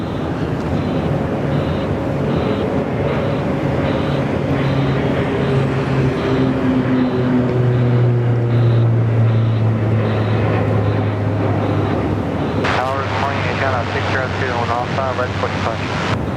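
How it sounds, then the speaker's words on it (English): A Delta airliner bound for Los Angeles rolls for takeoff at Sydney Airport, its jet engines roaring loudly and steadily with rising whine and wind buffeting, while a person talks over it. "Delta on the roll now, heading back to Los Angeles."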